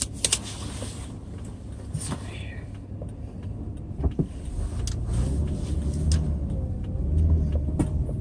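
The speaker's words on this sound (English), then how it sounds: "Hang on, there's a lot of traffic." A car rolls through city traffic in Berkeley, its low engine rumble and road noise swelling steadily, with soft clicks inside the cabin and a person speaking quietly over it.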